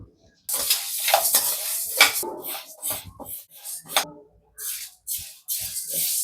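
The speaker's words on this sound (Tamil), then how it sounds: "இப்போ உளுந்தை வந்து லைட்டாக வறுத்துக்கலாம்" Urad dal dry-roasting in a pan, with bursts of scraping and rattling stirring strokes and soft sizzling, close and fairly quiet, separated by short pauses.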